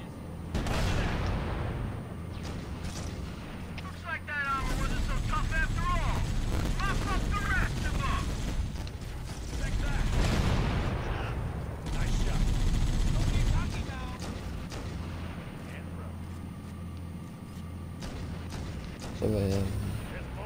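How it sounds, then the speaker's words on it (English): A mortar tank fires heavy artillery rounds in the Halo: Combat Evolved campaign, making dull, repeated booms and rumbling blasts that sit within dense game sound and music while people talk throughout. "Enemy mortar tank sighted in my position."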